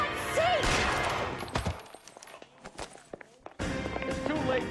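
Gunfire in L.A. Noire, a burst of shots and clattering impacts mixed with footsteps and game noise, loud and busy, thinning into scattered cracks before the din returns, with voices speaking over it.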